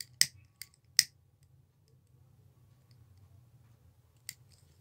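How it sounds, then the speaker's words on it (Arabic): A lighter used to seal crochet thread on a leather-reinforced bag base, heard as a few sharp, close clicks spaced apart over a quiet, low background hum. "هبدأ اشتغل بالولاعة كده"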